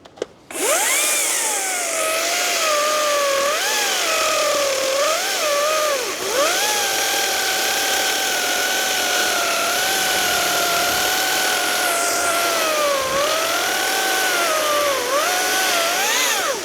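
An Echo DCS-3500T battery top-handle chainsaw running on a 2.5 Ah battery whines loudly and close up as it cuts. The pitch dips and recovers under load through a long continuous cut, with no talking.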